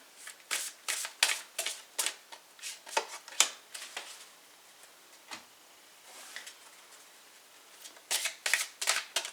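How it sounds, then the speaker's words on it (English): Angel Therapy and Angel Answers oracle cards are shuffled in quick bursts of crisp, close papery riffles and snaps, pausing briefly midway before a final flurry, with no talking. "we're going to use Oracle cards, Angel Therapy and Angel Answers today."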